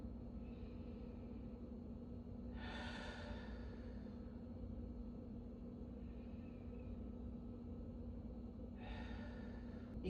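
Two slow, audible breaths during yoga, each a soft, airy exhale several seconds apart, over a faint steady hum.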